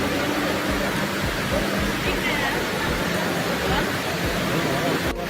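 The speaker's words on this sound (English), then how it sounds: "This space is simply called the Waterfall." Indoor waterfall inside Dubai Mall, a steady broad rush of falling water under a busy shopping-mall crowd murmur, continuous and fairly loud throughout.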